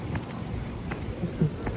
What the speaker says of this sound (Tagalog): Medyo malakas na yung ulan.